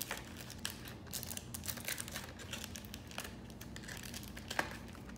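Plastic wrapping being folded and packed into a small box: a quiet, close series of irregular crinkles and soft crackles, with no talk.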